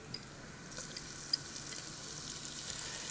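Shallots frying in a pan as keto chicken thighs are cooked, giving a soft, steady sizzle with faint crackles and a few small ticks throughout, quiet and with no talk.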